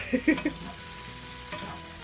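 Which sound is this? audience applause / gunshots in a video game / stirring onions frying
stirring onions frying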